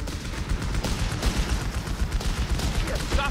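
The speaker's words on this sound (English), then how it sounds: "That HMG's firing on us!" A heavy machine gun firing in Company of Heroes 3: dense, continuous rattling fire mixed with battlefield noise, loud and unbroken throughout.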